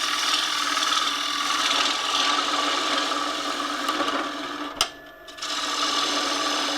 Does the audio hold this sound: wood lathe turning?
yes